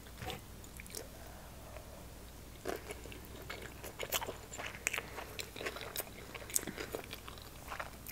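Close-up chewing and biting of salmon sushi rolls, with soft crunches and wet mouth sounds in an uneven, continuous rhythm and no speech.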